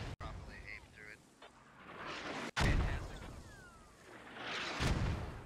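Mortar fire in a military video game: a few heavy booming impacts, with one loud nearby blast and a later, more distant rumbling burst over ambient battlefield noise.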